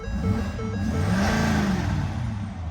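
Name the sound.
truck engine revving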